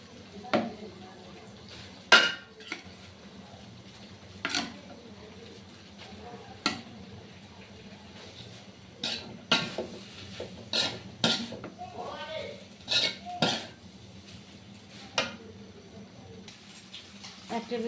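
Cooked rice tipped into a pan and stirred for vegetable fried rice, with repeated sharp clinks and scrapes of a utensil against the pan over a low background, irregular strokes spread across the stretch.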